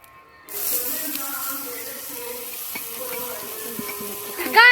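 Onions hit hot oil for chicken kothu parotta, starting with a sudden sizzle that settles into steady frying with occasional stirring scrapes and a brief louder sizzle near the end.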